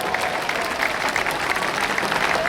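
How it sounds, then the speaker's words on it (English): An audience at an athletes' send-off event in Sheffield breaks into sustained applause, a loud, dense spread of clapping hands filling the whole moment without speech. "Give a round of applause."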